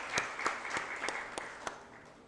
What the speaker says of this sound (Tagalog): Isang palakpak po para sa ating dakilang Ama